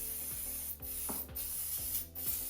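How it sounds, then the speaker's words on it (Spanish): Steady close hiss of WD-40 aerosol sprayed over a kart engine, continuous with brief breaks and a faint rubbing undertone. "vamos a echarle WD-40"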